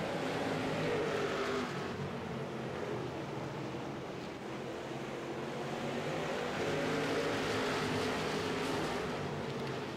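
Race cars on a short track in a sim racing game, a continuous dense roar of several engines that swells and fades slightly throughout, with no voices over it.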